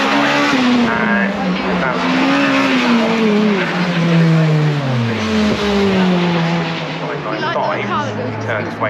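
A race car at Cadwell Park screams across the line, its engine note rising and falling through gear changes, loud and close, with a commentator talking over it.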